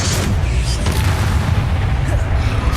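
A Bombarda blast spell from the game Hogwarts Legacy rumbles as a dense, loud, continuous booming roar with heavy low-end, packed with battle noise and no clear gap.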